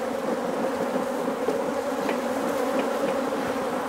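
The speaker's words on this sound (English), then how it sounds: "This is the angry hive." Honey bees from an angry hive buzzing in a steady, loud, droning swarm that holds throughout, with no voices.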